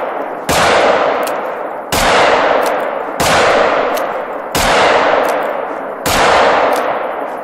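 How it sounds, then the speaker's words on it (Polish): Five loud, booming revolver shots fired at African buffalo on a beach in The Hunter: Call of the Wild, spaced roughly 1.5 seconds apart, each with a sharp crack and a long rolling echo that fades before the next. "rewolwer położył mi piękne dwa bawoły na plaży"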